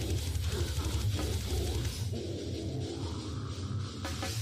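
Slamming brutal death metal excerpt, loud and dense throughout, with heavy low-end riffing and pounding drums, chugging in a steady groove that thins slightly after the opening bars.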